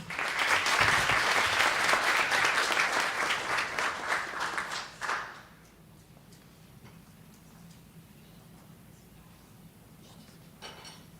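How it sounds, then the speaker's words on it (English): An audience claps loudly for a group of presenters for about five seconds, the applause swelling and then cutting off abruptly into a quiet room with only faint background noise and a stray tap near the end. "give another round of applause to all of our presenters today"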